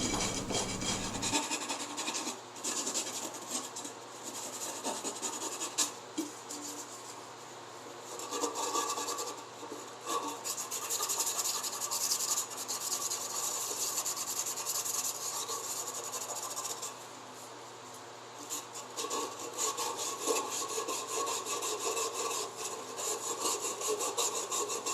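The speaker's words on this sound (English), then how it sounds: "I'm using 150 grit sandpaper here, making sure to thoroughly sand anything that might come in contact with solder." Steady, continuous rasping of 150-grit sandpaper rubbed back and forth on a stainless steel kettle, close up, running without pause for the whole stretch, no voices.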